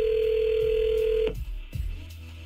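A telephone line sounds a steady, loud dial tone that cuts off abruptly, followed by a couple of clicks as a radio station places a call.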